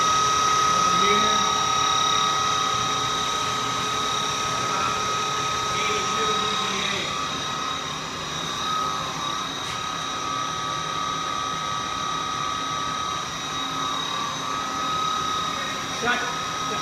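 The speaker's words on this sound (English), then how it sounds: "You can hear the gearbox running." A gearbox runs on a Carrier test stand in Syracuse, NY, giving a steady, loud mechanical whine with a constant tonal drone and broadband hum. It continues unchanged throughout, with a faint click near the end.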